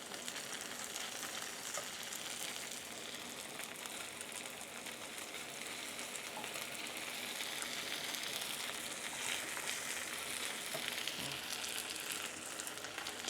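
Steady, bright sizzling of vegan bánh xèo crepe batter frying in a hot pan, a continuous crackling hiss with no talking.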